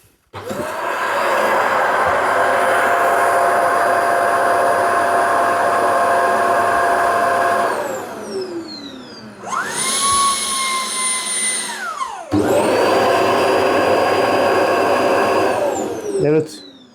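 A Shark robot vacuum docked at its charging station runs a loud, steady suction whir that dips and pauses near the middle, rises again in pitch with a whine, then cuts off at the end.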